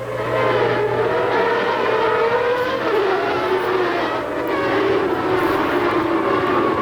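A field of 1980s Formula One cars roars away together from the race start, a dense rising whine of engines sweeping past at a distance, steady and loud throughout.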